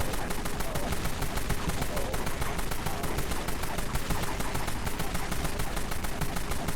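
XAK assault rifle with a 100 round magazine firing nonstop in the Dead Frontier video game, a dense continuous stream of rapid gunshots at steady volume throughout.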